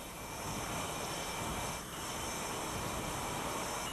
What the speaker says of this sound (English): Even after hundreds of flights, Balcetis still gets a thrill from sitting in the driver's seat of an FA-18 Hornet